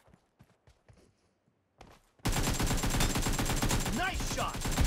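Rapid gunfire from a mobile shooter game on an iPad Pro, a dense continuous volley of shots that bursts in after a few quiet scattered taps, staying loud and busy to the end.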